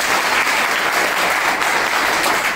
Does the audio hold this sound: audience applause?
yes